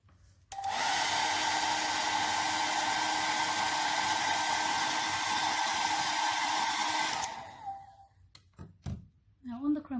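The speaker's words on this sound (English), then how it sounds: "I'm now going to dry it with my hairdryer." A hair dryer roars loudly and steadily for several seconds, drying chromatography paper, then shuts off, followed by a few soft thumps and handling noises.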